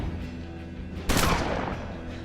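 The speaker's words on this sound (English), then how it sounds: "And then take shots with the shotgun" A single loud shotgun blast in the video game Hard West, a sharp close report halfway through that decays over the next second against a steady background of game ambience.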